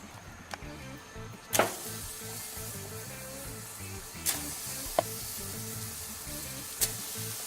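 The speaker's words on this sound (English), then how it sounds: "Let's go ahead and throw our ribeyes up on here." Ribeye steaks sizzling on a Char-Griller gas grill, a steady sizzle broken by a few sharp clanks and scrapes of tongs or grates, no talk.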